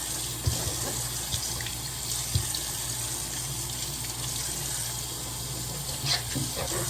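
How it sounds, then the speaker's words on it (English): Water runs steadily from a tap over a Tatum 4 basketball shoe being cleaned at home with a Walmart shoe cleaner, a continuous close splashing hiss with a few small knocks, no talking. "Just pouring water on it."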